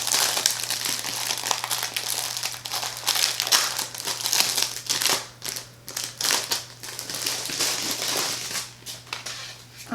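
Crinkly plastic or paper packaging is torn and crumpled while a small paper journal is unwrapped during an unboxing, with steady close rustling and crackling bursts and no talking.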